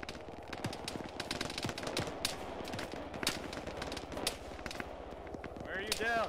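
Gunfire in the military simulation game ArmA during a ShackTac session: sharp rifle shots crack repeatedly at varied distances, some in quick bursts, steady throughout, with muffled radio voices faintly underneath.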